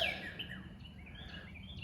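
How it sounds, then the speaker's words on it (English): Birds chirp and call intermittently outdoors on a hot day, faint and somewhat distant over a low background rumble, with no one talking. "And I'm being taunted by the birds."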